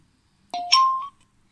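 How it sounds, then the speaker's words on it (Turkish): An FS37 Bluetooth speaker powers on with a short two-note electronic chime, a brief tone followed by a longer, slightly higher sustained note, clear against near silence. "Şimdi ilk önce Bluetooth cihazımızın on off tuşundan on moduna getirelim."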